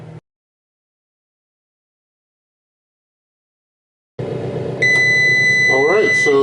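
Timer beeps from an Emerald air fryer oven cooking frozen chicken tenderloins, a string of steady tones sounding near and loud after a long silence, with a voice talking over the last part.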